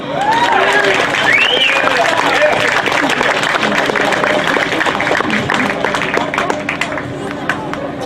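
Audience applause for high school graduates at a Juneteenth 2021 gathering in Martin Luther King Park, Modesto: loud, sustained clapping from a crowd, with cheering and crowd babble throughout, tapering slightly toward the end.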